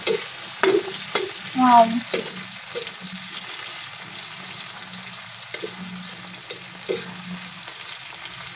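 Egg omelette (tortang itlog) frying in a lot of cooking oil gives a steady close sizzle, with a few early clanks of stirring and a brief voice.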